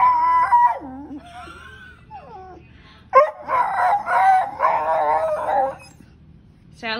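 A dog whines and howls in long, rising and wavering cries, several drawn-out vocal bursts close to the microphone, with brief quieter gaps between them and no talk over the calls.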